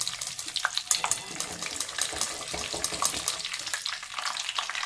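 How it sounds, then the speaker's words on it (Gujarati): Busy crackling and popping of green peas and pigeon peas frying together in hot oil for undhiyu, loud and irregular, with watery hissing bursts throughout. "વટાણા છે ફૂટતા હોય છે એટલે આને આવી રીતે આપણે તળી લેશું"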